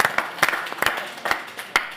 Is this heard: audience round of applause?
yes